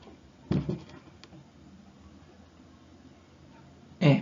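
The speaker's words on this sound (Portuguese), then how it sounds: "se vocês estiverem escutando nheque, nheque, nheque, é a minha mesa que está rangendo aqui" A small desk creaks in two short bursts, one near the start and one at the end, with quiet room tone between them.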